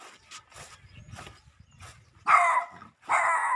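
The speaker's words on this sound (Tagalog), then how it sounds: "Oh, may aso." A dog barks twice, loud and close, after a stretch of quieter rustling and movement.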